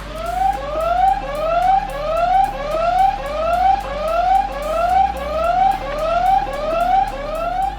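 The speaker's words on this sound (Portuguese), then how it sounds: "o que irá acionar o alarme." Electronic alarm of a Super Soco TC MAX electric motorcycle wailing loudly in rapid rising sweeps, repeating evenly without pause, close by.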